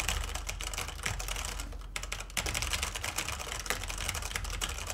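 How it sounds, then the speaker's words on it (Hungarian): Brisk typing on the mechanical keyboard of an Acer Predator 21 X gaming laptop with Brown switches, a dense run of close, steady clicky keystrokes with a few short pauses and no talking. "És így tudunk gépelni vele."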